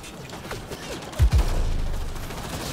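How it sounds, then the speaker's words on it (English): In Mass Effect: Andromeda, a grenade goes off in a sudden heavy double boom among quieter game sounds, followed by a rumbling tail and gunfire. "Grenade."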